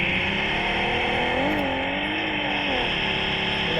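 A vehicle engine in PUBG Mobile drones steadily and loudly while driving, with the pitch bending up and down as it revs, continuous throughout with no clear talk over it.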